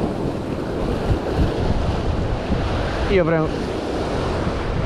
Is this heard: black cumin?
no